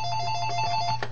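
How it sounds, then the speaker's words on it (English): A phone rings during an iPod firmware tutorial, a steady electronic tone with a faint pulsing warble, fairly loud and continuous with a hum underneath and no speech. "Sorry, that was my phone ringing."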